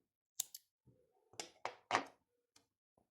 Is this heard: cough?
no